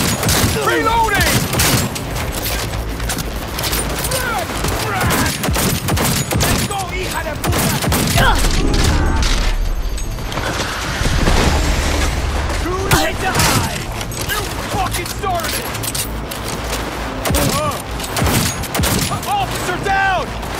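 Cyberpunk 2077 combat rages with heavy, near-continuous gunfire and impacts, loud and dense, while characters shout over the fighting.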